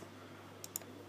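Two quick, crisp computer mouse clicks close together, faint and sharp over a low steady hum, during 3D modelling work at a computer, with no speech.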